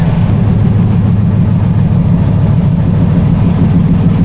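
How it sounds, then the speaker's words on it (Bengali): Steady, loud low rumble and rushing wind noise inside a broad-gauge Jahanabad Express train running at night, a constant dense roar with no pauses and no talk. "এই ট্রেনের বাতাসের শব্দ অনেক বেশি"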